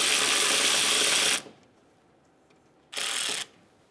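A ratchet spins out the 10mm coolant reservoir bolt on a Ford Focus: a close, dense burst of rapid clicking lasting over a second, a quiet pause, then a second shorter burst.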